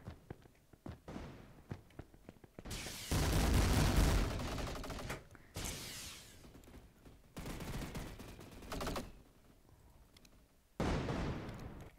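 AA-12 shotgun in a video game fires in rapid loud bursts, several blasts chained together, separated by quieter gaps with scattered clicks and footsteps.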